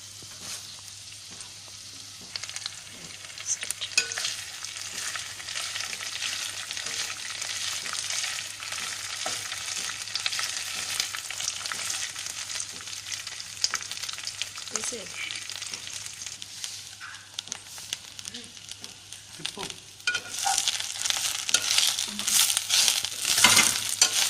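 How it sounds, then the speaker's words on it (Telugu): Curry leaves crackle and sizzle in hot oil in a pan, a continuous dense frying hiss with occasional stirring clicks, growing louder near the end. "కరివేపాకుని ఇందులో వేసుకొని ఫ్రై చేసుకుందాం"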